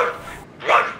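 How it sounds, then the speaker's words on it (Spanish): Two short barks from Cartoon Dog, a bright yappy sound in quick succession, loud and close with no other voices. "Está ladrando."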